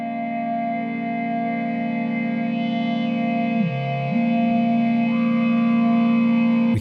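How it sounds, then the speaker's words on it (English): A sustained, buzzy synthesizer tone with several independently tuned filters, as resonance is brought up. Harmonic peaks sweep and shift, with a brief dip midway before the tone steadies, loud and alone. "Let's bring in some resonance."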